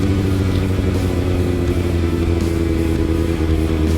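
A 2019 Kawasaki ZX-6R four-cylinder motorcycle engine runs loud and close, holding a steady, droning high-revving tone with no voices over it.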